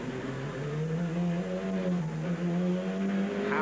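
A Renault 21 race car in the 1990 Monaco Europa Cup roars through the Monaco tunnel, its engine droning loud and steady with rising harmonic pitch throughout.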